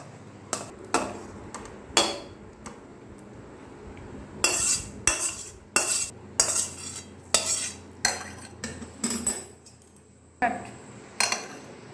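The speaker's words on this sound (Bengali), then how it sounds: "এবার একটা জায়গায় ঢেলে দেবো আলুর দমটা।" A spoon or ladle clanks and scrapes against a metal pot while onion- and garlic-free Bengali dum aloo curry is transferred into a serving bowl. About a dozen sharp, close metallic knocks come at irregular intervals over a low background hum.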